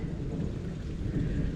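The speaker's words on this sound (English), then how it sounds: "mostly hearing thunder and seeing flashes" Steady heavy rain during a thunderstorm, with a deep continuous rumble of thunder under the dense hiss of falling rain, no voices.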